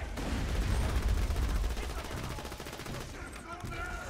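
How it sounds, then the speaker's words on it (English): Rapid automatic hip-fire gunshots ring out in Borderlands 2, loud and continuous for several seconds before tapering into fainter shots and game effects. "So that's the hip fire, and you can see it's a lot less accurate even close up."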